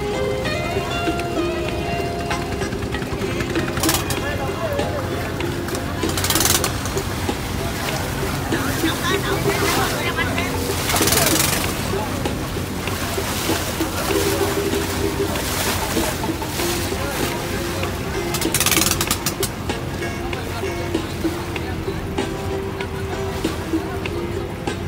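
Boat engines and sloshing water fill the busy Cái Răng floating market on the Mekong Delta, a steady motor drone with lapping waves and passing hulls. People talk over it throughout.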